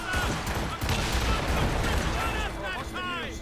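Musket volley in Assassin's Creed Rogue: a dense, sustained crackle of massed gunfire and booming shots fills the scene, with shouted voices and game music under and after it.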